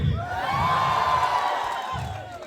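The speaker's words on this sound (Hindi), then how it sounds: "जोरदार तालियां होनी चाहिए। शोर परी चौक तक जाना चाहिए।" An audience at a family fete claps and cheers, a dense, sustained wash of crowd noise with a shrill whistle or whoop riding above it, dipping briefly near the end.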